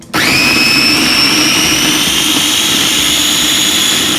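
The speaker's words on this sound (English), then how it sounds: "Now we're gonna puree the pear pieces we've cut up." A blender whirs steadily at high speed as it purees chopped pear pieces, starting abruptly and holding a loud, constant motor whine throughout with no talking.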